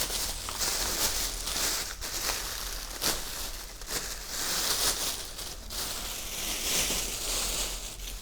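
Plastic and paper packaging from a Weefun Tina 2 3D printer is unwrapped, with continuous crinkling, rustling and tearing, close and fairly loud, broken by occasional sharp handling bumps.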